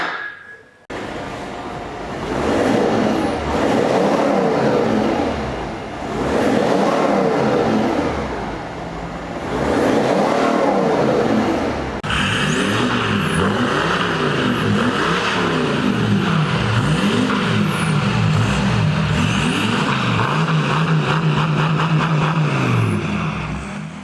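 Volkswagen Touareg 5.0 V10 TDI with its rear silencer deleted, revving hard on a dyno: loud, close engine sweeps rising and falling in several repeated pulls, then one long sustained high-revving run.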